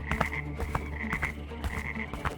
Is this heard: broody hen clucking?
no